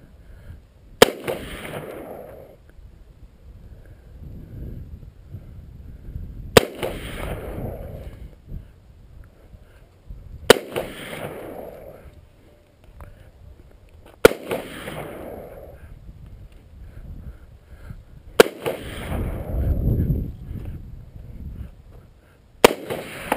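A .38 Special revolver fires at a rock 198 yards off outdoors: five sharp, loud shots spaced several seconds apart, each trailing a brief rumbling echo, with a quiet voice heard faintly between them.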